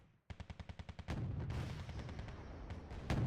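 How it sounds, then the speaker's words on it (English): Gunfire on infantry in Wargame: Red Dragon, a rapid burst of about eight sharp shots followed by dense, sustained rattling fire with heavy booms, loud and close throughout. "our infantry is getting fired upon"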